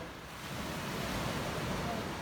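Steady wash of Black Sea surf at Chakvi near Batumi rolls on without a break, soft and distant with a windy hiss.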